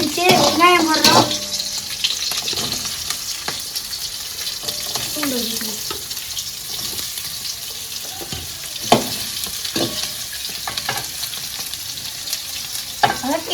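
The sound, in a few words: onions frying with green chillies in a pan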